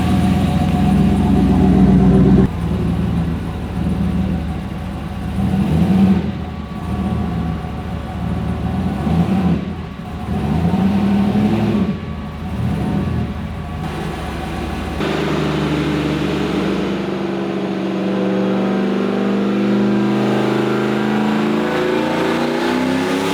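Turbocharged Pontiac WS6 engine on a chassis dyno, loud and close, with repeated hard revs and throttle pulls that rise and drop, then a steady high-rpm drone for the final stretch, no talk.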